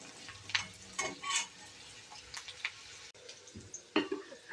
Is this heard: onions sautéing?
yes